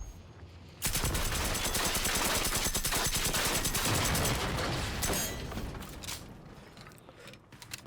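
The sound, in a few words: gunfire in video game Generation Zero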